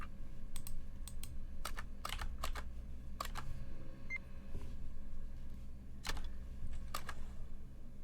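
Scattered clacking keystrokes with a typewriter-like feel come in small irregular clusters over a low steady background hum, near and moderately quiet, with one brief faint tone.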